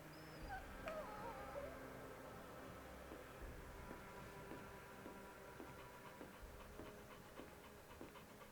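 Puppies whimpering and panting softly in the video game Final Fantasy XVI, faint and close, with a quiet low rumble beneath.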